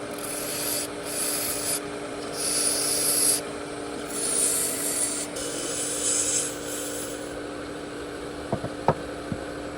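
A small fingernail gouge cuts a spinning resin shift knob on a lathe, giving a steady rubbing, scraping hiss in uneven bursts over a constant motor hum, with a few sharp clicks near the end.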